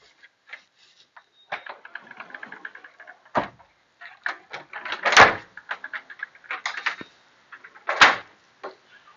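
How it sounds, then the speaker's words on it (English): A glass door on a Beneteau Swift Trawler 47 boat slides along its track with scattered clicks, rolling rattles and a couple of sharp knocks as it moves and stops. "Beautiful sliding glass door."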